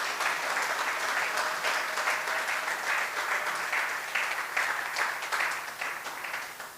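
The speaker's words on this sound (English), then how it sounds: "big round of applause to the founding members and their families, please" A crowd claps steadily at the grand opening of a Hindu temple and community centre in Oxford, dense even applause for the founding members and their families, sustained throughout.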